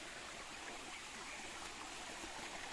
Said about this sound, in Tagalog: May maliit din siya na waterfalls.